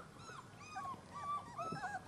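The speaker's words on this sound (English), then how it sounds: "The 7-week-old puppies that haven't left yet heard us, and they want to come out and play" Seven-week-old puppies whimpering and yipping, several thin, rising whines overlapping in short repeated bursts, faint and somewhat distant, with no talk.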